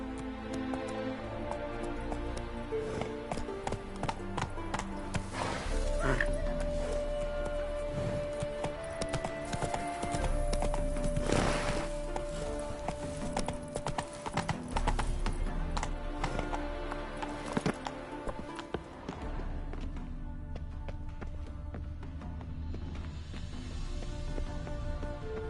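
Galloping horse hooves clip-clop steadily in The Witcher video game, layered over a dense game soundtrack that runs throughout.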